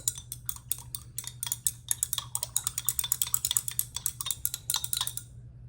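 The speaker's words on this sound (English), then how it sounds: "And I'm going to keep stirring." A glass stirring rod taps and scrapes inside a glass beaker while crystals dissolve in water, giving rapid, irregular clinking strokes, close and crisp, continuing for several seconds before stopping.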